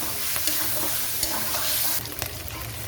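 Vegetables with capsicum and freshly added sauce stirred and tossed in a frying pan for vegetable chow mein, giving a steady close sizzle with scraping and clinking of the utensil against the pan.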